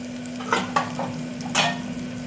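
Turmeric, coriander powder, garam masala, chili and salt fry in oil for a whole masoor curry, a constant sizzle broken by several clear scrapes of a spatula stirring against the pan, with no talking.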